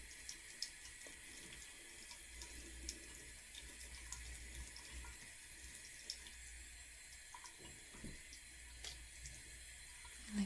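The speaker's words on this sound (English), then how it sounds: "I'm really trying to just scrub it until that water comes clean" Tap water runs into a sink while makeup brushes are scrubbed clean, a soft steady flow at low level with small scattered splashes and bristle rubs.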